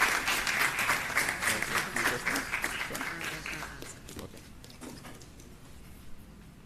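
Applause fills the room at a ceremonial MoU signing after a presentation ends. The clapping starts dense and lively, then thins and fades away over several seconds.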